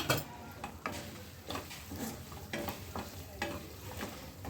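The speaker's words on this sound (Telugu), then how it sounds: "కారపొడి యాడ్ చేసుకున్న తర్వాత ఒకసారి మొత్తం కలుపుకోవాలి" A spoon scrapes rhythmically through mutton fry with chili powder in a pan, giving soft regular stirring strokes over a low, steady sizzle. Quiet and close, with no speech.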